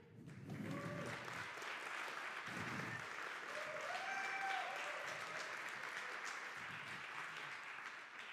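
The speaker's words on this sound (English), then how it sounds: "you're going to have to clap again for Alex afterwards" Audience applause at the App.js Conf 2023 tech conference, a sustained, fairly distant patter of many hands lasting several seconds, with murmured voices and brief speech underneath.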